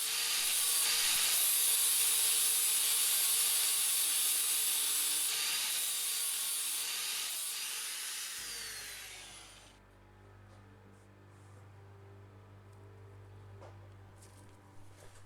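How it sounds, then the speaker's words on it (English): An angle grinder whines loudly, grinding off the post faces on a motorcycle chain link for about eight seconds, then spins down while a low motor hum lingers in a quieter room. "I can just use my angle grinder to grind off the face of those posts"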